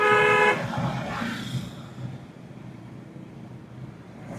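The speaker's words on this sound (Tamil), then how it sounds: "ஹார்ன்" A car horn blares once, loud and short, followed by fading traffic rumble.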